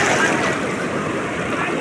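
Sea waves washing onto the beach at Puri make a steady, loud roar of surf under heavy wind noise, continuous and close, with faint voices mixed in.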